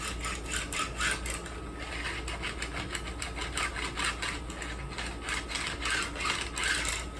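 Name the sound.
filing a bevel on guitar fret ends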